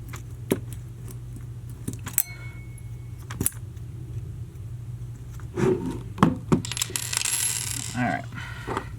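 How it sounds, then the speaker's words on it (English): Small screws for a Smith & Wesson FPC carbine optic mount clink and rattle as they are handled, giving scattered sharp metallic ticks and light jangling against a steady low hum, with a brief busier rattle near the end. "Our screws have been removed, so now we'll grab our new screws."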